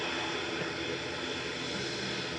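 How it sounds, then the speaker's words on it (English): A British Airways Airbus A319 airliner's engines roar at Manchester Airport, a loud, steady broadband rumble and hiss that fills the whole moment without a break. "flight 1383 for British Airways heading back down to Heathrow at A319"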